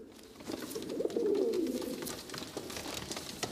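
A pigeon coos softly at a pigeon breeders' club, a low rolling call swelling through the middle of the stretch and then fading, heard fairly close against quiet background rustle.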